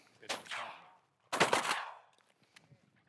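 Two loud shotgun blasts during a dove hunt over a planted wheat field, each a sharp crack with a rolling tail, about a second apart, followed by faint distant pops and quiet outdoor ambience.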